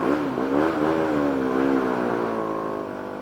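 A BMW G 310 R motorcycle with an Akrapovic exhaust revs loud and close, a rising and falling single-cylinder drone held for about three seconds before easing off slightly, with no voices.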